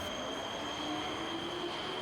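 A Los Angeles Metro Red Line subway train runs underground, a steady loud roar with high, sustained wheel squeal throughout and faint rhythmic rail clatter.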